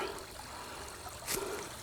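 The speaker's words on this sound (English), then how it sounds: "Just a nice little place to listen to the water" A small stream in Colonel Francis Beatty Park near Charlotte trickles steadily in the background, faint and constant, with one brief louder splash partway through and no voices.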